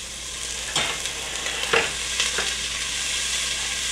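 Vegetables sizzle in a preheated oiled pot over medium-high heat, a steady hiss of frying broken by a few sharp clatters and scrapes as they are stirred, close and alone without talk.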